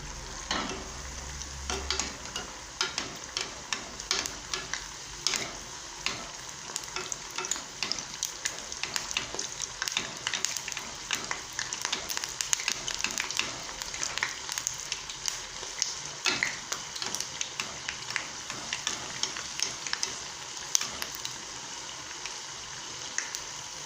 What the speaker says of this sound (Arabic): نحمرها مليح ومن طون نزيد واحدة خلاف